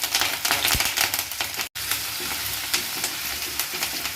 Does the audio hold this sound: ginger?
yes